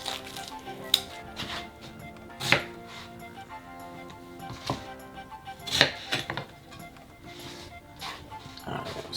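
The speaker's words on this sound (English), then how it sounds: "we're going to chop the onion" A white onion is chopped with a knife, giving irregular, fairly quiet thuds and clicks on a cutting board alongside a few light kitchen clinks, with faint low talking underneath.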